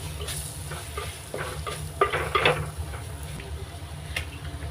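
Onions with chilli powder and turmeric powder sauté in a pan for a Kerala-style crab roast, giving a soft, close sizzle with a few scraping stirs and small crackles, and no talk.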